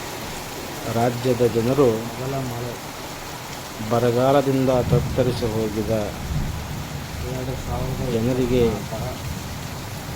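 The first monsoon downpour in Karnataka, in the Haveri area, falls as a steady, continuous patter beneath a narrator's voice, which speaks in three bursts.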